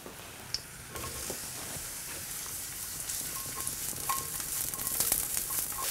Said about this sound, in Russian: вот грибы слегка обжарились